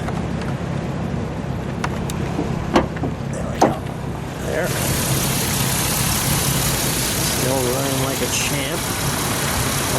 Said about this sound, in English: It's running right now, so I'll show you the engine.